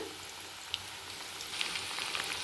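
Cabbage manchurian balls deep-fry in hot oil on full flame, a steady crackling sizzle with small popping bursts, close and moderately loud, with no one talking.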